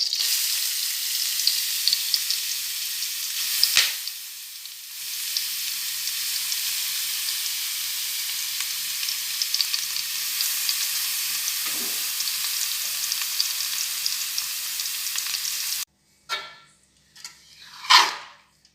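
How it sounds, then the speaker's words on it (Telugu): Grated carrot frying in ghee for carrot halwa, a loud, continuous close sizzle that holds for most of the clip, then stops, followed by a few scraping stirs in the pan. "పచ్చివాసన పోయేంతవరకు క్యారెట్ వేయించుకుంటే టేస్ట్ బాగుంటుంది"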